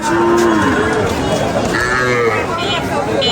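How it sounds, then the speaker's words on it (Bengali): A large sacrificial cow moos loudly and close at a cattle market, drawn-out lowing calls over a steady murmur of people in the background. "আমরা ইতিমধ্যে দেখতে পাচ্ছি বিশাল বড় একটি গরু"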